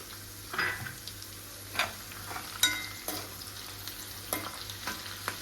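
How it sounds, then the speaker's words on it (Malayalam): A lemon pickle mixture with curry leaves and salt is sautéed in a pan, heard as close, uneven scraping stir strokes over a soft, steady sizzle, with occasional light utensil clinks. "ഇനി ഇത് നന്നായിട്ടൊന്ന് വഴണ്ട് വരട്ടെ"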